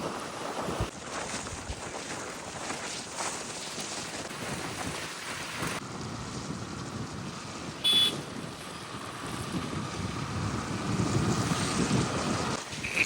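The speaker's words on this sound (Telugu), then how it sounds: "గాలి అయితే చాలా దారుణంగా వస్తుంది" Constant roaring wind from Cyclone Montha in Kakinada buffets the microphone with a heavy, rushing rumble, steady throughout with occasional louder gusts.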